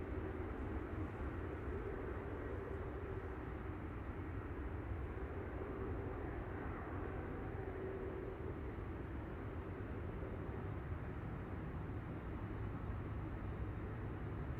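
A Ryanair Boeing 737-800 at Manchester Airport, heard as a constant distant low engine rumble and roar that holds steady throughout, with no voices.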